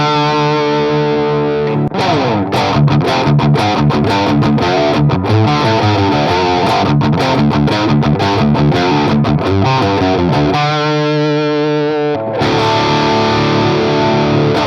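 Electric guitar runs into a Dark Terror amp with a Moore Blade distortion pedal in the effects loop, giving loud, saturated riffs with choppy palm-muted chugs and sustained distorted chords, no talking.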